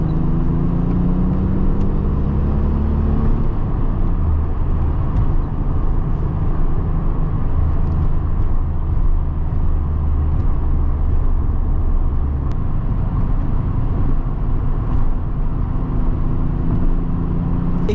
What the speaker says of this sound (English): you can have a little fun with it, rev it out a little bit, and then go into 2nd